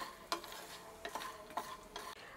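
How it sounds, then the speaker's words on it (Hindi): Fox nuts frying in ghee in a pan, heard as a quiet, soft sizzle broken by a few sharp crackles or pops spaced unevenly, with no one talking. "तो मखानों को भी हम क्रिस्पी होने तक फ्राई कर लेंगे।"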